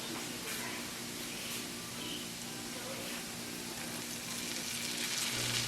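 Shrimp in a garlic butter sauce cooks in a pan with a soft, steady sizzle and hiss, fairly quiet and continuous.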